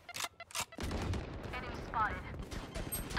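Gunfire in Valorant, with bursts of rapid shots and sharp reports mixed with a couple of isolated shots early on, while players talk over the action.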